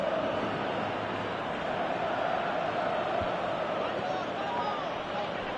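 A stadium crowd in the PES 2018 football video game keeps up a steady, loud roar of cheering with broad, unbroken density.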